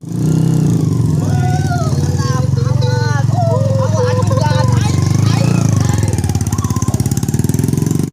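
A motorcycle engine runs loud and close with a rough, throbbing idle the whole time. People talk over it.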